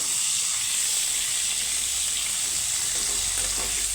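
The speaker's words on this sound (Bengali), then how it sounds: "পটলটাকে আমি সুন্দর করে ভেজে নিচ্ছি তো খুব একটা ভাজবো না হালকা করে ভাজবো" Pointed gourd pieces frying lightly in oil, a steady bright hiss and sizzle that stays constant and close throughout.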